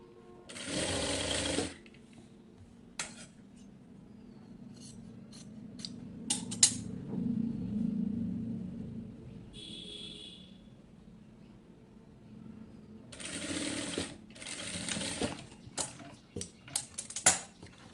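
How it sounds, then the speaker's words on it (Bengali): A sewing machine stitches fabric to set a zipper into a frock, running in two loud whirring bursts at the start and near the end, with scattered clicks and handling noises between them. "আমি প্রত্যেক কাপড়কে হচ্ছে সেলাই করে নেব"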